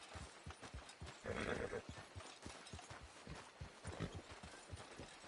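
Horse hooves clip-clop steadily in Red Dead Redemption 2, a regular trotting beat throughout, with a brief neigh or whinny rising midway over quiet background.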